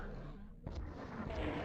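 A rocket launcher shot and blast in Doom 64 on original hardware, one sharp impact landing suddenly partway through over a rumbling background of game noise.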